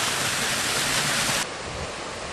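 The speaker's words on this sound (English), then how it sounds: "Let's do a waterfall." A waterfall roaring in a steady loud broadband rush, cutting abruptly to a softer wash partway through.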